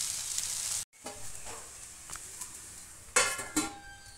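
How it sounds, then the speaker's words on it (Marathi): A pan of sabudana khichdi sizzles softly before a sudden cutoff as a lid goes on, followed by muffled frying and a couple of sharp metallic clinks of the lid near the end. "आता मी याच्यावर झाकण ठेवून बारीक गॅसवर ठेवून देणार आहे।"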